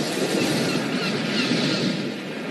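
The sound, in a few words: beach waves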